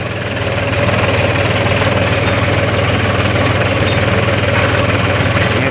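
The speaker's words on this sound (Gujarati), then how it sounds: "ટ્રેક્ટર" A tractor's diesel engine idles steadily and loudly up close, a constant low throbbing rumble with no voices over it.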